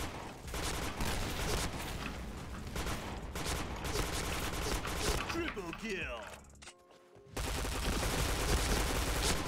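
Rapid gunfire from the online shooter game Point Blank, a sustained loud burst of shots with mechanical weapon clatter, a short pause near the end, then firing resumes.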